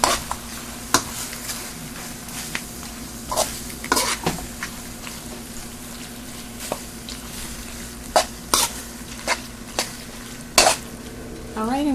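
Spoon stirring Velveeta cheese, spinach and pasta shells in a pot, with repeated scraping clanks against the metal over a low steady simmer, and a brief voice near the end.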